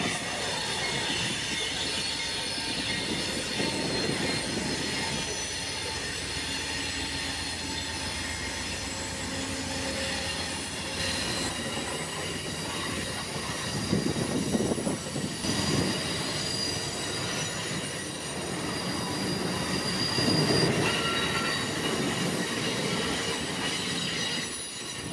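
An Amtrak passenger train passing on a curve near Tower 26 in Houston, wheels squealing steadily over a long rumbling roll of railcars, loud and sustained with occasional surges.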